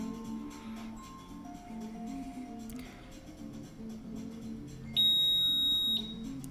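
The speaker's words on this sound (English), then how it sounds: "that beep and that double pass, that's one for each sensor on the unit that detects H2S" An Industrial Scientific Tango TX1 H2S gas detector gives a sharp, shrill electronic beep that lasts about a second. It rings out close and loud over a faint, murky room background.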